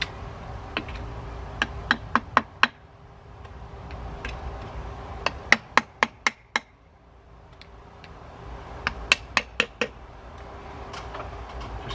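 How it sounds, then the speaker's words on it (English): A hammer knocks on stucco around an outdoor house lamp, sharp bright taps in short quick bursts of four or five, separated by pauses, close and clear over a quiet background. "I just take a hammer,"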